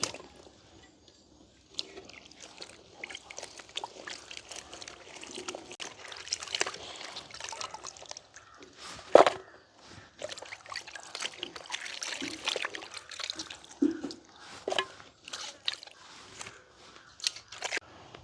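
Tap water runs and splashes while chili peppers are rinsed by hand in a village kitchen, an uneven trickle broken by wet rubbing and a few sharp knocks, with no talking.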